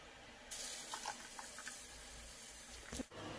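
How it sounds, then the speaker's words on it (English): Broth water poured from a container into a cooking pot while making tom yum noodle soup, a steady close splashing pour lasting about two and a half seconds, then a brief clatter. "Then put the broth water into the pot."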